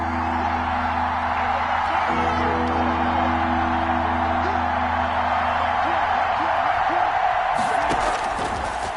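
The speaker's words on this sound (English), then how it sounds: "The crowd getting into it as we come up on a big 3rd down." Stadium crowd noise from an American football video game on PS4 swells as a big third down approaches, a steady roar with whoops running under commentary voices throughout.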